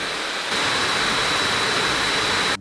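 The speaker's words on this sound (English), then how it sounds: "Acer's 4th generation Aeroblade cooling system really kicks into gear" Acer Predator Triton 900 gaming laptop with its fourth-generation Aeroblade cooling fans on turbo, giving a loud, steady, jet-like broadband whoosh that holds constant throughout.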